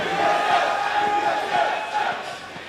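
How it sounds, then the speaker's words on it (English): A large esports arena crowd at the 2014 NA LCS Summer Playoff Finals, Cloud9 versus TSM in League of Legends, chants and roars in a continuous dense wall of voices, loud and sustained throughout. "The battle of the team names by the crowd right now."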